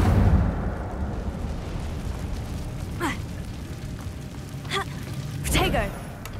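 Incendio fire spell cast in the game Hogwarts Legacy, a rushing burst of flame that fades into a steady roar, with sharp whooshing spell flares cutting in several times over a low rumbling bed.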